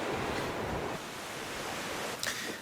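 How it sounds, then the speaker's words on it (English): Sea waves breaking at the base of an eroding cliff at Blackgang on the Isle of Wight in a southwesterly blow, a dense, continuous roaring wash of surf mixed with wind, with no voices. "we're seeing some of the power of the waves eroding away at the base of the cliff"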